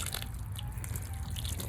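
Water pours around the base of small garden plants, a close, steady splashing wash with a few brighter drip-like spatters, no talking.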